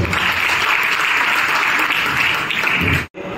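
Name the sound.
audience applause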